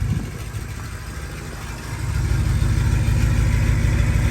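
A rough, loud 2013 Ford Focus engine with no exhaust fitted rumbles steadily at close range, growing louder halfway through, with a raw, unmuffled low-end roar.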